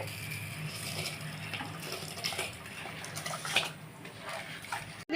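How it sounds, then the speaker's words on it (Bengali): Soaked Gobindobhog rice is poured into water heating on a gas stove for paneer pulao, giving a steady close splashing and pouring for about five seconds with no speech. "এখানে জল গরম হচ্ছে আমি এই চালটা ঢেলে দিচ্ছি"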